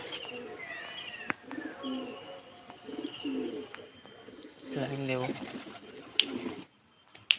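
Several pigeons coo in low, throaty phrases close by, with a brief spoken word and a few sharp clicks near the end.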